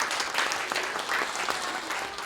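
A church congregation applauding its volunteers, a dense steady round of clapping from many hands that fills the room for a couple of seconds.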